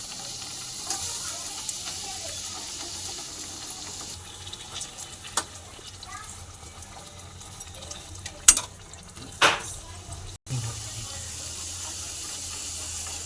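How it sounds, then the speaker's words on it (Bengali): Aloo puris frying one at a time in hot oil, a steady broadband sizzle and bubbling running throughout, with a few sharper crackles and spatters near the end. "এদিকে তেলটা আমার গরম হয়ে গেছে। এবার আমি একটা একটা করে ভেজে নেব।"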